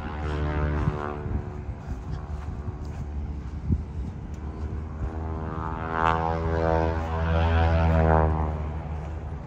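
Piper light aircraft propeller engines drone at the Oshkosh fly-in with a steady, buzzing, harmonic tone. They are moderately close, and the sound swells slightly as an aircraft passes near the end.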